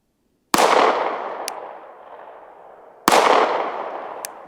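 Two loud, sharp gunshots from 115 grain full metal jacket target ammunition crack a few seconds apart, each followed by a long, fading echo tail.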